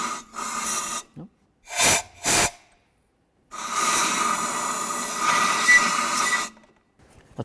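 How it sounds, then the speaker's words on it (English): Compressed air blasts into the open engine cylinders of a 5th generation Dodge Caravan: a short hiss, two quick sharp bursts, then one long sustained rushing blow, each separated by silence. "put a little bit of air inside these cylinders"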